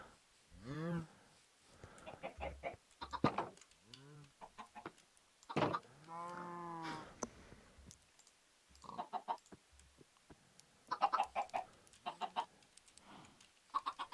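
Minecraft chickens cluck in short bursts with sparse clicks between them, the calls spaced unevenly and fairly close, with quiet gaps.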